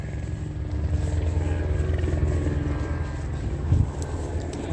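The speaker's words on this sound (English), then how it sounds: "helicopter flying over the City Hall" Helicopter flying over a city hall, a steady low droning rotor and engine rumble that holds throughout, fairly loud and continuous with no voices.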